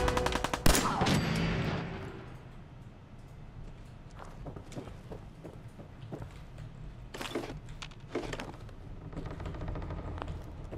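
Gunfire in the video game Fallout 4 while shooting at a raider: a loud burst of shots at the start. Scattered sharper reports and clatter follow over a steady low ambient rumble.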